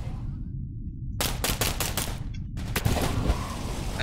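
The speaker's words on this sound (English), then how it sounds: "Sounds like they've got a sniper in guard." Video game gunfire from a sniper, a loud burst of rapid close shots followed by a couple more cracks, with dense sound all the way through.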